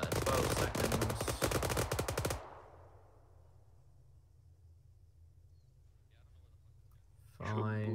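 Rapid automatic gunfire from an ArmA 3 firefight, loud bursts for about two seconds, then fading echo and quiet ambience before a voice begins at the end.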